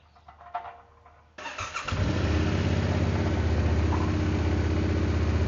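A Yamaha Tenere 700 motorcycle engine cranks and catches close by, then settles into a loud, steady, throbbing idle after quiet clicks and handling noises.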